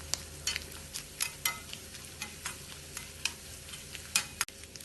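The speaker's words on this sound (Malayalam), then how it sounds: "എണ്ണ ചൂടാവുമ്പോൾ ഇതിലേക്ക് 1/2 ടീസ്പൂൺ കടുകും 1-2 വറ്റൽമുളകും കുറച്ച് കറിവേപ്പിലയും കുറച്ച് ഫ്രഷ് തേങ്ങ ചിരകിയതും കൂടി ഇട്ട് കടുക് താളിച്ചെടുക്കാം" Mustard seeds, dried chillies, curry leaves and fresh grated coconut tempering in hot coconut oil, with steady close sizzling and frequent sharp crackles and pops at an uneven rhythm.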